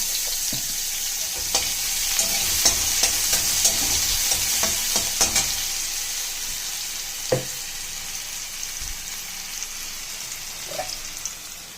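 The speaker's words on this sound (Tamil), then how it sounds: "இந்த வெங்காயம் நல்லா வதங்கட்டும் ஃப்ரெண்ட்ஸ்" Onions sauté in hot oil with mustard seeds and lentils, giving a steady close sizzle broken by scattered stirring scrapes and taps in the pan.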